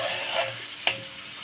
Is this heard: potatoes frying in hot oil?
yes